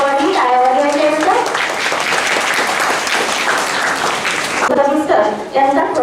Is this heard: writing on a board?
no